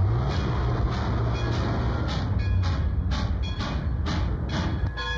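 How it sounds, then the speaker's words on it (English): Train moving along the rails in a 1929 film scene, a steady low rumble with repeated clacking bursts at regular intervals, close and continuous, with no voices over it. "come on, the train's moving"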